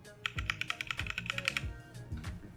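Typing on a Discipline 65 V1 through-hole mechanical keyboard kit fitted with Heiko Royal Clear switches: a quick run of crisp, close keystroke clicks, then a few scattered presses, with no talking.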